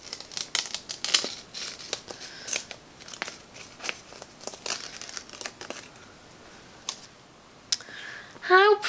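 An ironed-on Cricut design has its backing gently peeled away on a Christmas craft, giving soft crinkling and crackling plastic sounds up close in irregular bursts, with a brief voice near the end.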